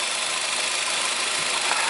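A car engine with a faulty EGR valve runs with a steady, rough mechanical rumble and hiss, held at a constant level throughout without an audible cut-out.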